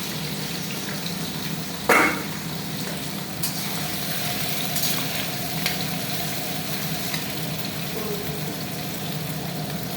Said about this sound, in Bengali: সেটাকে এখন ভেজে নেওয়া হচ্ছে